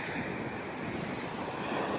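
Sea surf on an open shoreline where beds sit right by the water, a steady broadband wash of small waves with some wind noise, continuous and fairly close, with no voices.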